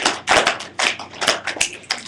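A group practices a body-percussion rhythm of thigh pats, crossed arms, claps and finger snaps, producing a sequence of close, sharp hand hits in quick succession with no talking.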